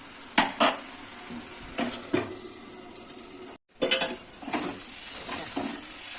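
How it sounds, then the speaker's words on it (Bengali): Drumstick flower curry with potato and green chillies stirred in a pan: close, sharp scrapes and clinks of a metal spatula in bursts over a soft sizzle, with a brief silent gap midway, no talking. "কাঁচা লঙ্কা দিয়ে নেড়ে চেড়ে আবার ঢাকা দিয়ে দেবো"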